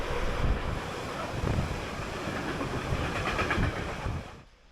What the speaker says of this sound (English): large cross-country freight trains,